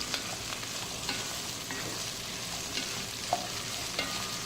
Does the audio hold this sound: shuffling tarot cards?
no